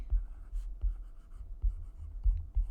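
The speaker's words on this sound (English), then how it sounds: "I wrote it with a highlighter." A highlighter scrawls across a surface in short, close, scratchy strokes, about half a dozen rhythmic swipes in quick succession with no talking.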